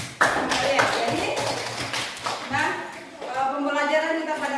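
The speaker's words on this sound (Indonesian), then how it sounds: "berikan tepuk tangan dulu untuk kalian" Seventh-grade students in a classroom clap together in a burst of loud, dense applause that fades out quickly, followed by a teacher speaking.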